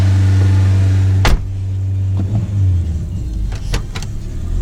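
A Chevrolet Nova engine idles steadily up close, a low continuous hum with a sharp click partway through and a few faint knocks near the end.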